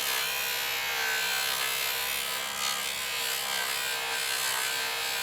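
Jewelry held against a polishing wheel spinning at full speed with buffing compound applied, a steady, dense whirring friction hiss close up and continuous throughout, no talking.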